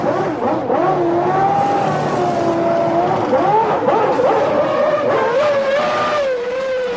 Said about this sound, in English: He gets away cleanly, but Hill comes shooting up onto his tail as they round the first long right-hander